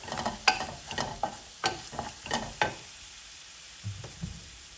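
Dried prawns frying in a pan with turmeric powder, stirred in a run of sharp scraping strokes over a light sizzle, then a pause and a couple of softer knocks, close and quiet with no voices.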